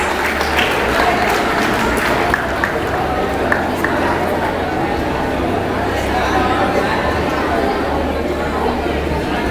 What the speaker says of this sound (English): Can we have a endless round of applause?